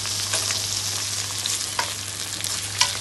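Tomatoes frying in a hot pan for a fish curry, a close, steady sizzle with brief stirring scrapes and spatters on top, no voices.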